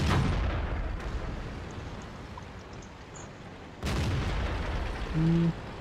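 Tank shells striking and bouncing off armor in a World of Tanks battle with a Panzer V Panther: two loud, sharp booming impacts, one at the very start and another about four seconds later, over a steady low rumble.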